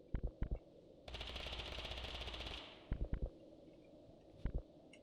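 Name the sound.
gunshots in video game Totally Accurate Battlegrounds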